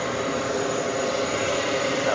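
Airplane taking off on runway 22 right at JFK airport, a steady distant engine roar with a faint high whine, heard briefly and evenly throughout.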